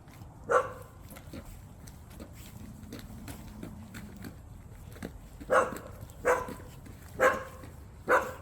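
A dog on a walk around town gives one sharp bark, then goes quiet apart from soft low whining, before a run of four more close barks at a steady pace.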